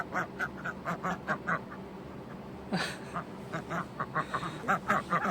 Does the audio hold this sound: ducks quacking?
yes